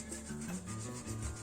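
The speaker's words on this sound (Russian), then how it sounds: "Берем терку и трем картофель." Potatoes rubbed against a hand grater for a layered herring salad, giving a steady scraping rasp close by with no talking.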